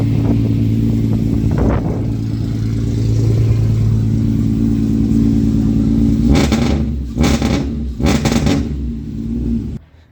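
A Toyota GT86 with a swapped Subaru EZ30 flat-six engine idles loudly and steadily up close, then three sharp throttle blips rev the engine before it cuts off abruptly.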